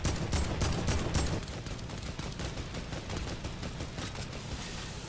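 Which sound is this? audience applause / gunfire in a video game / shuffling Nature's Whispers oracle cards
gunfire in a video game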